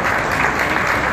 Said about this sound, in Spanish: Les aplaudimos con gusto porque estos momentos son memorables